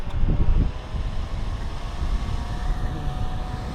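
Whatook 5000mAh rechargeable fan running at its top speed setting of 100, a loud steady rushing whoosh of air that stays constant throughout.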